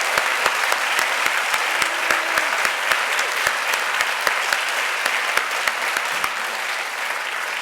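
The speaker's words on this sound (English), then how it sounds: "let's have a round of applause for the Milano class of 2016." A large audience applauds a graduating class of an international affairs and urban policy school, with dense, steady clapping filling the room and sharp individual claps standing out nearby throughout.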